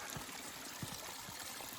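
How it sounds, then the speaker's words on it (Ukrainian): A small alpine waterfall beside a mountain trail rushes in a steady, dense wash of water at close range, with faint gurgles and splashes running through it and no voices. "Міні-альпійський водоспадик по дорозі."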